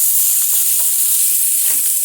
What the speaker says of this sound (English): my other fry pan here, I've been pan roasting some golden baby potatoes and